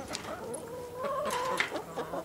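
Chickens in an outdoor run cluck and murmur close by, a string of short throaty notes and one drawn-out call, moderately loud with no talking.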